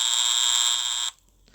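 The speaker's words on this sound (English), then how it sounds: "If we remove the resistor, the buzzer increases, the volume increases" An electronic buzzer in a circuit simulation app gives a steady, loud, high-pitched tone for about a second, then cuts off abruptly, leaving near silence.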